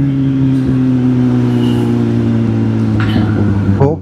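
Steady, loud engine drone of a shared two-wheeler ride at night, a constant mid-pitched hum with wind rush throughout and a short voice near the end.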